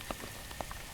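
Rain falls in Zelda: Breath of the Wild as a soft, steady patter with a few distinct drops landing on surfaces, faint and unbroken, with no talk.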